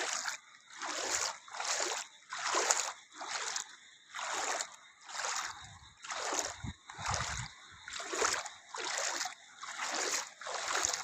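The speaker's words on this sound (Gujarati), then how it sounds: "નિશાળની ફરતું પાણી વા ગોલરામાં રોડ ઉપરથી પાણી જાય છે." Rainwater runs across a road around a school during heavy rain, heard as steady splashing and trickling that surges in regular pulses close by, with no voices.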